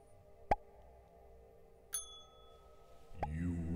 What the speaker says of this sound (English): You rang the bell?